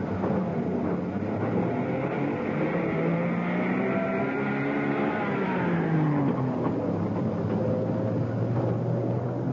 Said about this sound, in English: From here, it's carried by lorry about the site.